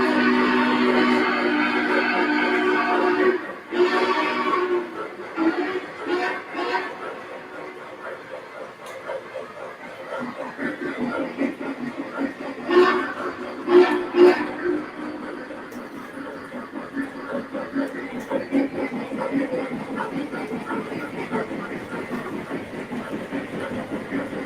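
A Lionel Legacy model train rolls past with a rhythmic clickety-clack and hissing, loud at first then easing off, while people talk over it.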